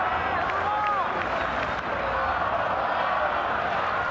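Stadium crowd at a World Baseball Classic final between Puerto Rico and Mexico cheering for batter Manny Rodriguez, a dense, steady roar of voices and scattered applause filling the whole moment without a break.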